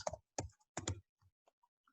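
Typing on a computer keyboard while HTML code is entered, with short bursts of quick clicks followed by a few sparse single taps, close and fairly quiet.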